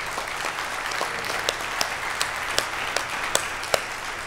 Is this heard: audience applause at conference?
yes